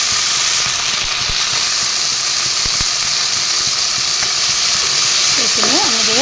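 Soybean curry with turmeric and salt being stirred in a pan over a steady, loud sizzle and hiss, with a few faint spoon scrapes and a brief tonal warble near the end.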